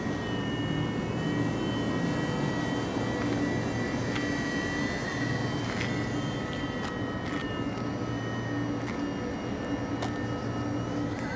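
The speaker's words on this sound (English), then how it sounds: "here we are with Rudy Mosquito flying the Airland Hobbies sponsored MSR helicopter, ready to fly, brand new from Horizon" A small Blade MSR radio-controlled helicopter from Horizon, brand new and ready to fly, flies with a steady high-pitched rotor and motor whine that holds continuously throughout, with no talking.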